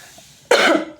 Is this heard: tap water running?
no